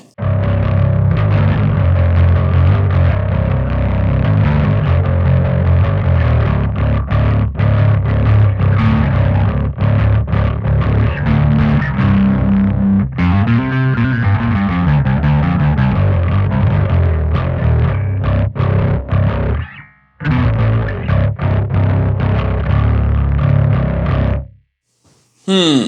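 Bass guitar driven through a Caline overdrive pedal with the gain cranked, heavily distorted and loud, continuous riffing with sliding notes and a brief break near the end, no talking.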